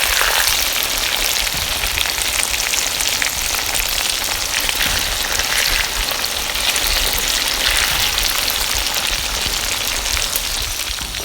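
Chicken pieces frying in a pan while being turned over: a steady, loud, dense sizzle with crackling spatter throughout and no talking.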